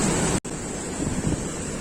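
Fast-flowing river near Palchan in Kullu Manali, Himachal Pradesh, roars in a steady loud broadband rush, with a brief dropout early on.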